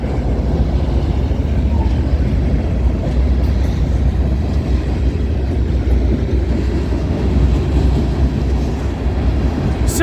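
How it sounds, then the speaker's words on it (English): CN freight train CNA 424, led by locomotives 8914, 8929, 2802 and 7502, rolls past on the Dundas Subdivision near Milepost 2, giving a loud, steady low rumble that holds for the full stretch without a break. "Symbol on this train is CNA 424."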